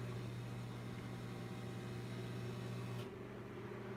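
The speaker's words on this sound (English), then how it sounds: "Or maybe I'm just hearing a microwave." A steady, low electrical hum like a running microwave oven, droning evenly before cutting off abruptly near the end.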